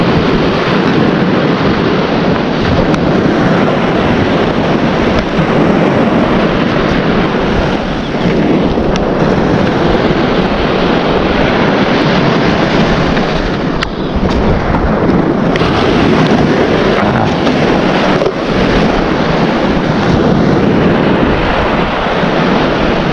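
Ocean waves wash steadily onto Abulug Beach by the Babuyan Channel, a loud, continuous roar of surf mixed with wind buffeting the microphone, with no voices.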